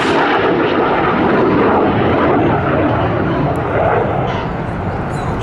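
An RAF Red Arrows Hawk display jet, Red 9, roars past loudly while accelerating in a descent at an air festival, a dense continuous rumbling blast that fills the whole clip.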